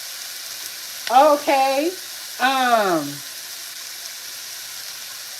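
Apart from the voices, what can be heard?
onions stir-frying in oil in a pan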